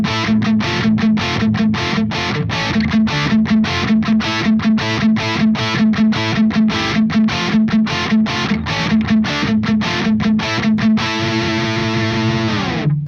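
A high-gain, heavily overdriven electric guitar plays through an EVH 5150 Iconic EL34 tube amp. It chugs loud, tight, rhythmic palm-muted riffs for about eleven seconds, then rings out on a sustained distorted chord.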